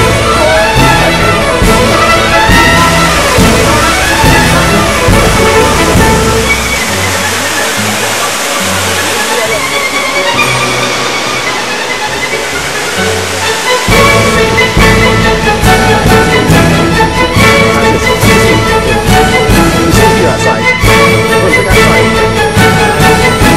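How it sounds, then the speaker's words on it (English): A river waterfall roars loud and close as a constant, dense rush of falling water that fills the whole stretch, with occasional faint voices underneath. "Do you like the waterfall?"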